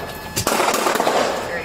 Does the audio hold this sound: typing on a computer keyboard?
no